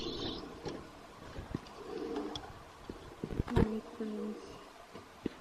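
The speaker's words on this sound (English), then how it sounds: "Can you hear the birds singing?" Birds call outdoors, including soft cooing, amid quiet ambient noise, scattered clicks and a few brief nearby sounds.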